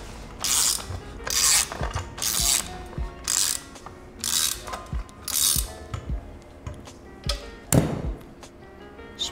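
A socket ratchet tightens the axle nut on a custom scooter wheel, clicking in repeated close, crisp bursts separated by short pauses, with a few metallic thunks from the parts.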